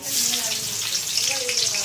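Onions frying in a wok over panch phoron and two dried red chillies give off a steady, close, broadband sizzle for the whole stretch, with a faint voice underneath.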